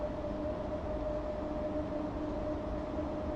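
BR Class 90 electric locomotive in Train Sim World 6 pulling away at full power, a steady low rumble with a constant motor whine, close and continuous with no talk.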